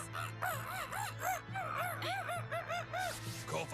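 A bird character in the One Piece anime squawks and caws in a rapid series of harsh, rising-falling calls, loud and close, repeated throughout over a low background hum.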